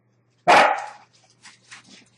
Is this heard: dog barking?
yes